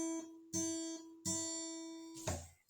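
An acoustic or electric guitar sounds a short bar of single struck notes, each ringing on with clear sustain before the next attack, with the final note rougher and louder, and no voice over it.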